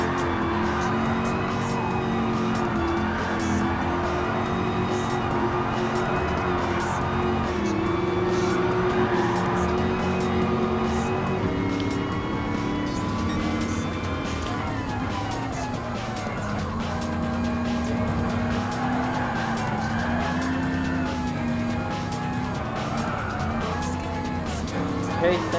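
A classic Ford Mustang Mach 1 muscle car races in Gran Turismo Sport, its engine droning loud and steady with shifting pitch, joined by brief tire squeals and other cars passing close.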